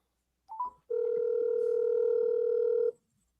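A steady telephone tone, like a ring or dial tone on a call, sounds for about two seconds after a short blip. It is clear and fairly loud, with no talking over it.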